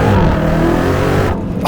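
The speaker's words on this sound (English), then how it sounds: "I'm actually glad there was a car coming behind me because you got to see that" A car passes on the road close by, heard from inside a Dodge Challenger Hellcat or Scat Pack as a loud, steady engine rumble and whoosh that drops off sharply near the end.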